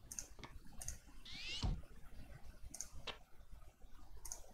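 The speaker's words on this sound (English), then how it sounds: "I heard a cat there." A short rising cat meow from a Windows 98-era computer game, sounding once near the middle among sparse clicks and ticks over a quiet background.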